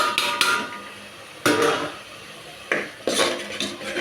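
Onion pulao masala stirred in a metal pot, heavy scraping and clanking strokes of a ladle in several separate bursts with quieter gaps between, close and fairly loud.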